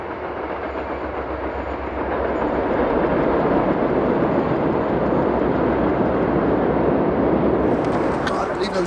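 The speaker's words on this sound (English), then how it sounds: "got a little train!" A small train crossing a railroad bridge over a deep canyon, a continuous rumbling clatter of wheels on track that swells louder after the first couple of seconds and holds steady, with a faint higher whine near the end.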